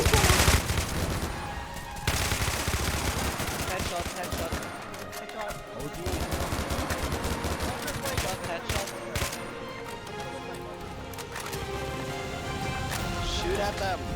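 Rapid bursts of gunfire crackle through a Minecraft battle, dense volleys repeating for several seconds amid game noise, with voices talking over the shooting.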